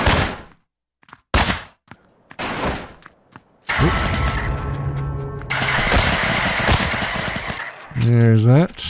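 Gunfire in the top-down shooter game Rapture Rejects, with sharp scattered shots early, then a sustained burst of rapid fire and engine-like game noise, loud and close.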